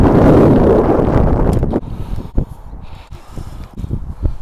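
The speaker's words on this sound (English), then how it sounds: "We've got a southwesterly wind that's pulling it in." A southwesterly wind buffets the microphone on a fishing bank during unusually mild winter weather. It roars loudly at first, then drops into gustier, uneven rumbles and thumps. No one speaks.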